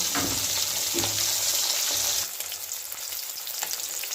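Katla fish frying in hot oil with a pinch of turmeric, a steady loud sizzle throughout that eases a little partway and carries on with faint crackles.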